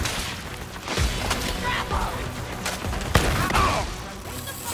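Grenade explosions in the video game Borderlands 3, a scattered series of booms and sharp thuds over busy combat noise, one especially crisp blast near the middle.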